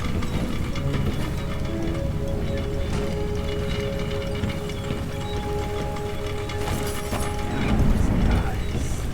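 Crank wheel mechanism turning in the video game Dishonored 2, a steady grinding mechanical rattle with ratcheting clicks and faint tonal hums, continuous and fairly loud, swelling slightly near the end, with no talk.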